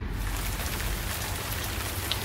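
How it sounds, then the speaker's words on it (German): Steady rain patters densely on surfaces close by, an even hiss of drops with no let-up. "It's raining, man."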